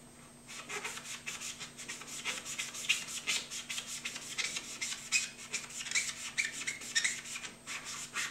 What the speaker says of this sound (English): Mr. Clean Magic Eraser is very efficient for removing marks from painted surfaces such as stairs.